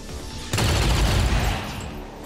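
Soldiers fire guns in XCOM 2: War of the Chosen. A sudden loud burst of rapid gunfire erupts after a brief lull, rolls for about a second, then fades into a lingering rumble.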